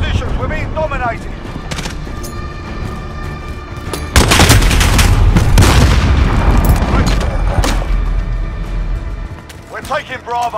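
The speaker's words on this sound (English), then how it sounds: "Allied cruise missile away." Heavy booming explosion from an allied cruise missile strike in Call of Duty Modern Warfare (2019) multiplayer Domination, a loud sustained blast with rumbling gunfire around it, with game voice callouts before and after.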